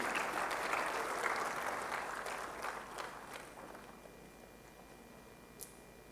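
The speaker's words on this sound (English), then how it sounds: "Let us all join together in welcoming and applauding Sri Harimohan Bangur as we bestow upon him the well-deserved honor." An audience at a convocation applauds an honoree, a fairly faint crowd clapping that starts fuller and gradually thins and fades over several seconds into quiet room tone.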